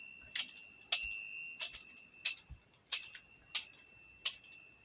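A bell rung repeatedly in a story, seven bright metallic strikes spaced roughly every two-thirds of a second, each with a sustained ringing tone, clear and fairly close with no talk over it.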